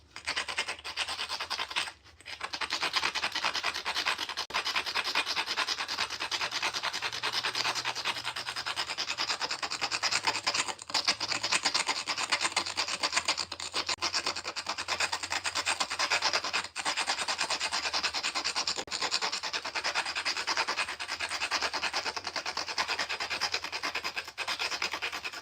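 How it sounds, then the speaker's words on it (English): A flintknapping stone being ground to remove a crumbly white spot, a steady continuous abrasive rubbing and scraping that runs loud and close throughout with only brief pauses and no talk. "Trying to grind away some of that crumbly white stuff"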